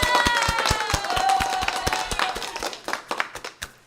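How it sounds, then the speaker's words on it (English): A small group claps during a live-streamed show, the sharp hand claps loud and close at first, then thinning into a few scattered, uneven claps as it dies away. "We'll give them a round of applause"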